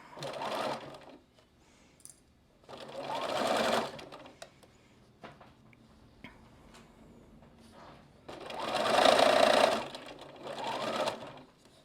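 A home sewing machine backstitches a seam in quilt fabric, running in three loud bursts of rapid whirring stitches separated by quiet pauses and faint handling clicks.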